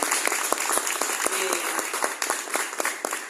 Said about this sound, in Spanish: Quiero que le demos un fuerte aplauso y bienvenida a nuestro querido Oscar Arce